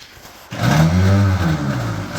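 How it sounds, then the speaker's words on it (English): A 1949 Farmall H tractor's starter cranks the engine, which catches within about half a second into a loud, steady idle that runs on alone with no talk. "Starter spinning. Oh yeah, great start."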